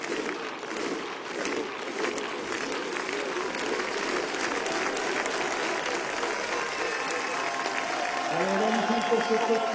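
A crowd of spectators at a biathlon race in Annecy, France claps steadily and rises toward the end, a broad wash of hands with a voice over the loudspeaker.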